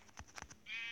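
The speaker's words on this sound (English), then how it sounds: "I'm fine with the sheep." Sheep in Minecraft Pocket Edition give a few short, close bleats, with a brief higher-pitched bleat near the end.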